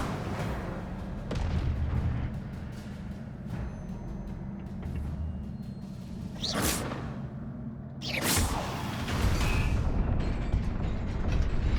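Incendio fire spell cast in Hogwarts Legacy, with several sharp whooshing bursts and booming impacts over a constant low mechanical rumble, two prominent sweeping flares standing out partway through.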